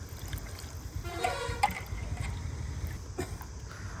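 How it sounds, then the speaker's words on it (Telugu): Water is poured into a pot of chicken pulao, two glasses per glass of rice, making a faint, close trickling and splashing that runs steadily throughout. "ఇప్పుడు ఒక గ్లాస్ రైస్కి 2 గ్లాసులు వాటర్ చొప్పున యాడ్ చేసుకుందాం."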